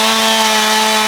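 A chainsaw cuts through a storm-damaged tree, its loud, steady high-pitched whine running unbroken and close by for the whole short stretch, with no voices.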